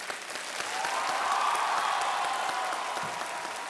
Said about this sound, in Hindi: इसलिए ज़रा ज़ोरदार तालियां बजाते रहिएगा।